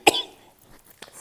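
A single sharp cough from a woman with a sore throat, close and loud, followed by a quieter breathy sound about a second later.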